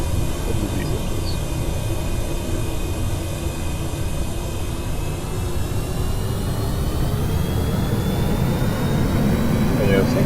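Engines of a cargo VTOL SSTO aircraft in a video game roar with a steady broadband jet drone and faint whining tones, constant and loud, with a voice talking over them.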